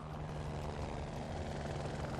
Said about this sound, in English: you cannot have a Bond movie without a helicopter